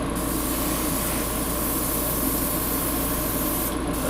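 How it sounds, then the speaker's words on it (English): Airbrush spraying paint onto cardboard terrain, a continuous close hiss with a fine sputtering texture running steadily throughout at an even level, with no voices. "You can probably hear my airbrush sputtering a little bit because I've been doing tons of painting"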